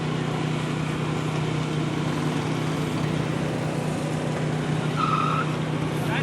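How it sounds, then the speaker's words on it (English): Small parade cars known as flivvers roll by at the Pahrump Fair and Festival Parade, a steady engine drone with a steady background hum and a brief higher squeal near the end. "I think they call the little cars flivvers."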